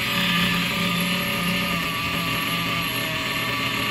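A small RC model engine buzzes steadily at high pitch, a constant close-up drone with no pauses.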